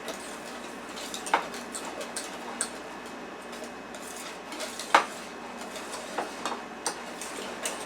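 A utensil mixes sour cream into mashed potatoes in a bowl, making soft scraping strokes and a few light clinks against the dish, close and quiet, with no talking.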